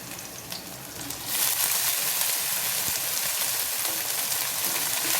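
Curry leaves and onion frying in a pan, a steady loud crackling sizzle that jumps up sharply after a second and then stays dense and even.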